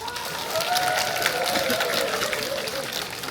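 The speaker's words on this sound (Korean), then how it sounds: "우리 이상근 교수님께 감사의 박수를 부탁드립니다" Outdoor crowd applause for a professor at an autumn gathering in Namsan Park, steady and moderately loud with voices mixed in throughout.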